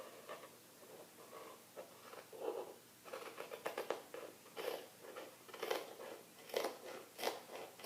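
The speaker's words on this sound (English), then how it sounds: "then go ahead and cut your armhole out" Scissors snip through dress fabric along an armhole in a quiet, close series of crisp crunching cuts, with short pauses between the snips.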